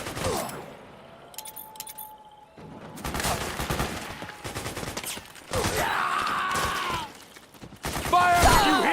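Bursts of gunfire in a Metal Gear Solid 4 firefight: loud volleys and rapid shots come in several separate clusters with short quieter gaps between them, mixed with shouting and clatter.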